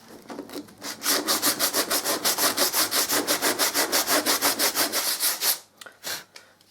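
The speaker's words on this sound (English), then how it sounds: "Now just a piece of sandpaper." Sandpaper rubbed by hand over wood filler on a hollow door, a steady rhythmic back-and-forth scratching of about twenty even strokes, close and loud, ending with a few slower rubs.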